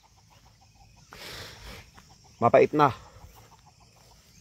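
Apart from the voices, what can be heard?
chickens clucking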